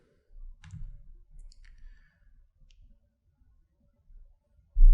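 A few soft, sparse computer mouse clicks sound at close range while an installer is launched on a quiet computer, followed by a louder thump at the end.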